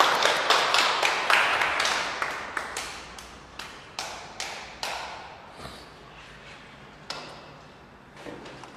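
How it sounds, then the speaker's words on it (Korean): A church congregation at a Sunday worship service applauds, a dense burst of clapping at first that thins out into scattered, separate claps fading over several seconds. "하나님께 영광의 박수 올려드리겠습니다"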